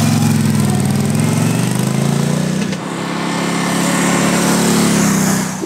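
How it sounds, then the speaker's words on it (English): A BMW R 12 cruiser's boxer twin engine runs steadily with a smooth, loud, throbbing bark close by, dipping briefly in the middle before picking back up. "you've got the smoother bark of the boxer"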